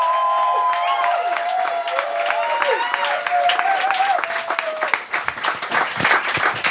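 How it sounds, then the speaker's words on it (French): An audience applauds loudly at a comedy show's audition night, welcoming a stand-up comedian to the stage. Dense, sustained clapping mixes with cheering, whistles and shouts, and it stays close and full throughout. "faites un tonnerre d'applaudissements pour Fred Provençal!"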